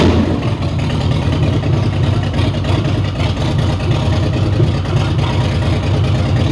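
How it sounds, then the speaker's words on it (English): A steady, loud motorboat engine drones throughout with a low, rumbling throb, running at constant speed during a boat race. "That sounds like the motor we got in our boat."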